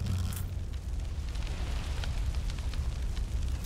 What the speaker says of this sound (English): Heavens! It's an explosion!